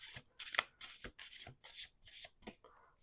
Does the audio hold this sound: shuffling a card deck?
yes